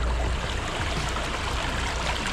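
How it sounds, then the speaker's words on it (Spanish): A small stream rushes steadily over a little waterfall, a loud, even broadband wash of running water with no voices. "Como corre el agua,"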